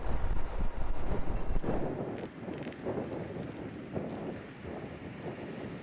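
Strong wind buffeting an outdoor microphone on the Arizona-California border, a loud continuous rumbling roar with gusty surges, heaviest at the start and easing a little, no voices.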